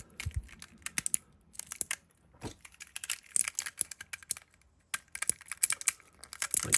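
Clic-kees keyboard fidget keys clicking in rapid irregular bursts, close and crisp, with short pauses between flurries of clacks and no talking.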